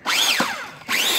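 A Japanese domestic 100V power tool runs on test with a close, loud motor whine that rises in pitch, dips and drops away, then spins up again, with no talking.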